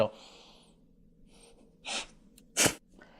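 A person sneezes after snorting sawdust while doing woodwork: a sharp inhaled gasp followed by an explosive, close sneeze, with a short snort in between and quiet background otherwise.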